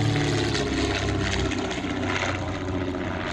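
A vintage de Havilland Comet drones past at the Shuttleworth airshow, a steady distant engine roar that swells slightly, with wind noise and a voice speaking briefly.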